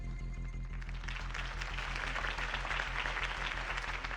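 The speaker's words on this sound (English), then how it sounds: "could have heard that applause" Crowd applause after a mayoral campaign speech in Batman: The Telltale Series, heard as a fairly quiet, continuous wash of clapping over a low, steady musical drone with a regular pulse.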